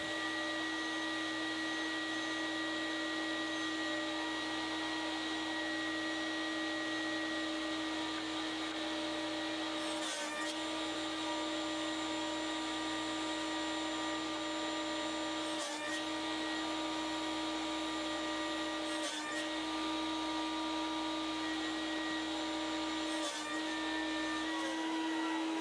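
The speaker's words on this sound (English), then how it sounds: "Now I'm getting ready to cut the 4 blocks that go onto the back here" A saw in a woodworking shop runs with a steady, loud motor whine while cutting wooden blocks on a crosscut sled, with a few brief bursts where the blade bites through the wood.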